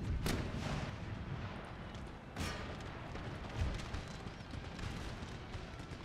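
Musket volleys and artillery fire in Empire: Total War, a continuous loud battle din with sharp cracks and booms layered over a heavy rumbling wash.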